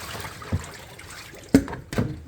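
Cloudy soaking water drains out of shredded potatoes through a strainer in a home kitchen, with brief splashes and trickles and a couple of sharper pours, close by.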